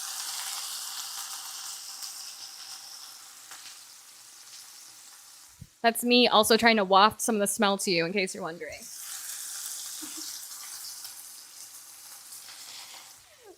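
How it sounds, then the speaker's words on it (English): Taco filling fries in a pan with a close, constant sizzle, briefly covered by a person talking in the middle before the hiss returns on its own. "Need mic next to the pan so we can hear the sizzles"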